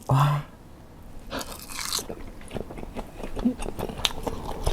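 Crunchy squid is bitten and chewed close to the microphone, giving a loud first bite and then a run of crisp crunches, with brief talk in between.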